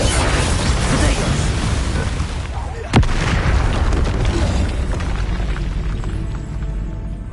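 Confringo fire spells exploding in Hogwarts Legacy: dense, rumbling blast noise throughout, with one sharp, loud crack near the middle, and a voice talking over the fighting.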